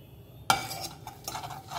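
A utensil stirs crushed garlic and cracked dried chillies in a warm pan on an unlit stove, a sudden metallic scrape followed by soft scraping and faint clinks, close and quiet.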